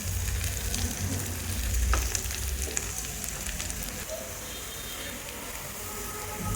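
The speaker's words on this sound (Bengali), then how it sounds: "আমার পেঁয়াজটা ভাজা হয়ে গেছে" Onions frying in a pan for a home-style chicken curry give a steady close sizzle with faint stirring clicks, alone without talk.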